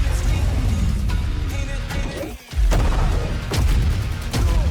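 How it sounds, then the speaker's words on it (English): Shotgun fire in the video game Black Ops 7, loud booming blasts in a dense, continuous barrage of gameplay noise, with a brief dip before the firing resumes. "Fire shotguns are back."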